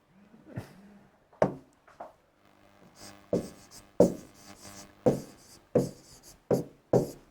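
Chalk taps and scrapes on a classroom board in a science lesson on electrical and mechanical energy, heard as a series of sharp, close, rhythmic strokes at roughly regular intervals with no voice over them.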